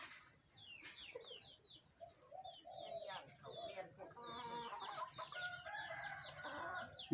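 Chickens in a rural Thai Buddhist village cluck and chatter at a distance, with a rooster crowing among overlapping fowl calls and other birds, all faint and continuous.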